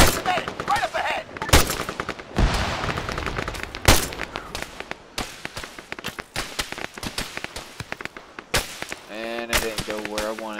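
Rapid gunfire in the military shooter Arma 3, dense bursts of automatic and single shots with sharp loud cracks throughout, close and continuous, with shouted voices mixed in.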